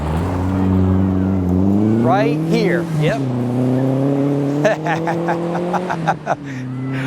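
Rally car engine at the 2012 STPR Rally, stage 10, droning steadily near and loud as the car powers out of a corner, with a rising rev partway and brief crackles near the end, while people talk over it.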